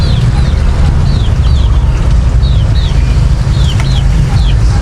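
Breeder chickens on a small backyard farm chirp and cluck in short, repeated calls over a loud, low rumbling background, the calls coming every half second or so.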